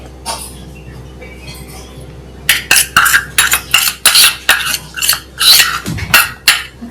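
A spoon scrapes and clinks rhythmically against a dish while homemade watercolour powder is mixed, the quick, bright strokes starting after a quieter stretch and repeating steadily and close up, with no talking.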